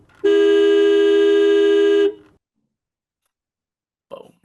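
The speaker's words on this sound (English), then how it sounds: "We're ending the season on just a long, like, train horn." A single long, loud horn blast with a steady pitch holds for about two seconds, then cuts to silence before a brief faint sound.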